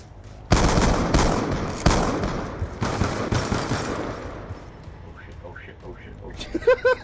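KSG shotgun blasts in Call of Duty Black Ops II, a few loud booming shots in the first half, each with a broad crackling tail, fading into softer game noise with brief chirpy effects near the end.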